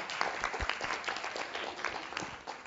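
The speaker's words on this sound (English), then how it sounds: "round of applause." Applause rises from the audience at a youth English debate final in Gwangju, a soft, steady patter of many hands kept low and even throughout.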